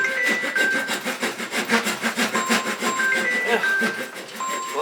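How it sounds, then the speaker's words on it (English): Sawing of a single wooden branch on a rattling workbench, with steady back-and-forth rasping strokes and clattering rattles filling the clip, plus a few brief electronic chime tones near the end. "Excuse the rattling noise. This is a workbench,"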